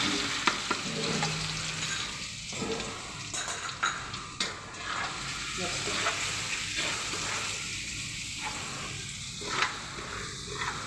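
Ginger garlic paste and asafoetida fry in hot oil for a pasta dish, giving a steady close sizzle broken by repeated scraping strokes of a spoon stirring in the pan.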